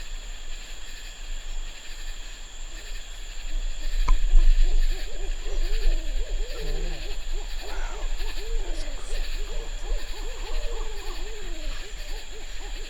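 An owl hoots in a forest in a series of soft, wavering calls at middle distance, over a steady hiss of background noise.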